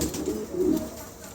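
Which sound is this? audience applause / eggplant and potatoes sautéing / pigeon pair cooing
pigeon pair cooing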